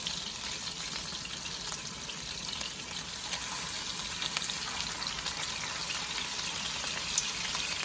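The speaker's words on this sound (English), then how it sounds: "I'm going to show you that nice sear" Pot roast sears in a hot pan with a steady, soft sizzle of hissing and crackling fat, even and fairly quiet from start to finish.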